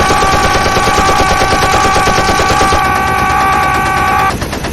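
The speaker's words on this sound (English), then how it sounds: "After shooting me like 27 times" Rapid, loud gunfire from shotguns in the Dead Rising video game, a dense run of repeated blasts over several seconds that stops abruptly near the end.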